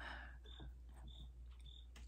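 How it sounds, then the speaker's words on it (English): Crickets chirping in a quiet room, faint repeated high chirps at a regular pace over a low background hum, with no talk. "all I hear is crickets."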